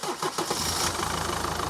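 A Mercedes Vito 638 with the 2.2 CDI diesel engine and a suspected dual-mass flywheel fault cranks with a few quick rhythmic pulses, then catches and settles into a loud, steady idle close by.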